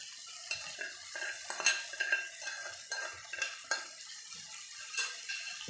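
Masala fries in a pan for a desi-style egg dish while a spoon stirs and scrapes against the metal in irregular clinks and scrapes over a soft sizzle, with no talking.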